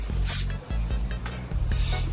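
Short bursts of aerosol hairspray hiss from a small bottle, two loud sprays separated by a steady low hum, with faint clicks between.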